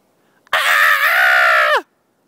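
A child gives one loud, sustained shrieking cry imitating a bird, held steady for over a second before dropping off abruptly, close to the mic and alone.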